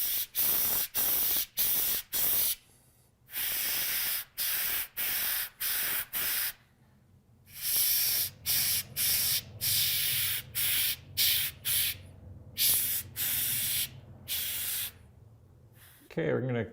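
Clear-coated model bug getting sprayed with an airbrush, rapid repeated bursts of loud hissing spray that stop and start in quick pulses, with short pauses and a longer steady stretch, no talk.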